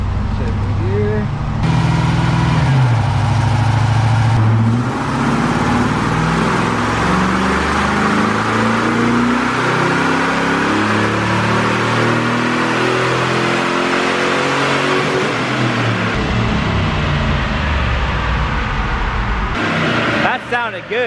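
A 5.3 LS-swapped Toyota Land Cruiser accelerates hard in second gear, its V8 roaring loudly as revs climb steadily for about fifteen seconds before backing off, with voices faintly underneath.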